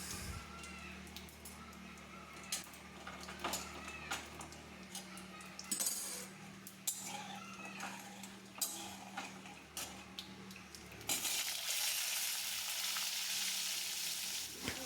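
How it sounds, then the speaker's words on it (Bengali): Potatoes added to a spiced oil tempering for a vegetarian cabbage dish fry in a pan, a steady close sizzle with scattered ticks and clinks of stirring, growing louder and brighter in the final seconds. "এরপরে আমি আলুটা দিয়ে দেব।"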